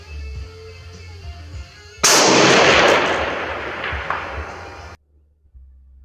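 A single SDM-R rifle shot cracks loudly at an Army marksmanship range, a sharp broadband blast that decays with echo over about three seconds before cutting to near silence.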